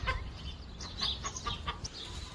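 A free-range hen clucks in a residential backyard in New Zealand, a few short, close clucks spaced irregularly over a soft outdoor background.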